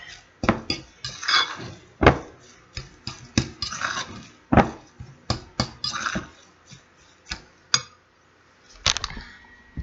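Potatoes being mashed for latkes, a string of sharp irregular knocks and clinks of a masher against a bowl, close and fairly quiet, with no talking.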